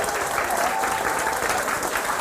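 Lecture audience clapping and cheering steadily throughout, a dense, even wash of applause from a roomful of people.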